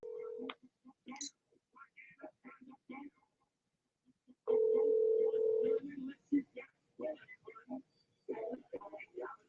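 A steady electronic telephone ringing tone sounds twice, a short burst at the start and a longer one midway, with people talking quietly around it.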